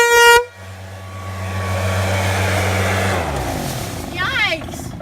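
A horn salvaged from the trash gives a loud, bright, brassy blast, then a long, steady, low droning tone lasts several seconds before fading into outdoor background noise.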